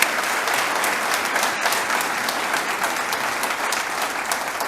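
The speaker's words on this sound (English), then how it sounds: "his service over the course of the last year deserves a round of applause if you" A large audience claps steadily and loudly at a State of the City event, a dense sustained wash of applause without pause.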